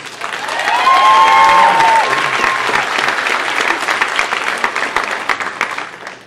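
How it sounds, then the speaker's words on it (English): Audience applause at a comedy show, honoring a comedian's son serving in the United States Air Force: loud, dense clapping from a crowd that swells quickly and holds steady, with light cheering mixed in. "How about a big round of applause for Chris, my son, who is serving our country in the United States Air Force."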